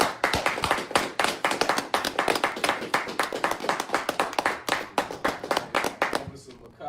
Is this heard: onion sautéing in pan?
no